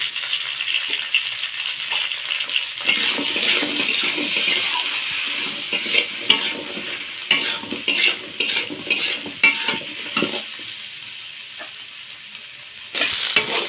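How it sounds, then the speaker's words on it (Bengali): Pointed gourd pieces fry with salt and turmeric in a hot pan, giving a bright, continuous sizzle. Close, rhythmic stirring clicks and scrapes of a spatula against the pan sound over it. "পটলগুলো ভাজা হয়ে গেছে,"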